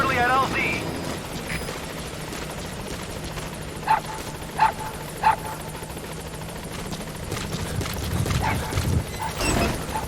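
A support helicopter approaches a landing zone in the video game Metal Gear Solid V, its rotor throbbing steadily under game radio chatter. Short tones sound midway, and a louder gust swells near the end.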